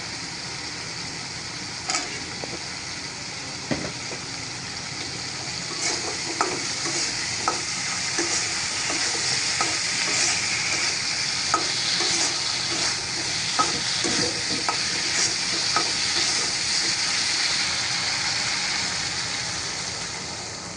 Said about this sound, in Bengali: কচুর মুখিটা কিন্তু ভালো করে কষায় নিব একটুখানি জুল দিয়ে